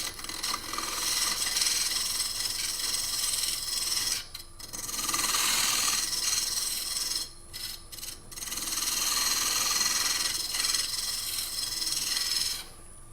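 A 1/16 inch parting tool cuts into spinning wood on a lathe, giving a continuous rasping scrape that pauses briefly a few times, then resumes at a steady, fairly close level.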